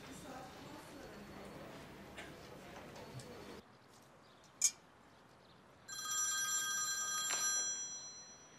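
A telephone starts ringing partway through with a bright, tonal, repeating electronic ring that follows a quiet stretch with a single sharp click.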